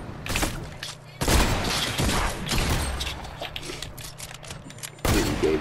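Gunfire in Fortnite: several sharp, loud bursts crack out, with a strong one at the start and another near the end, and quieter game activity rumbling between them.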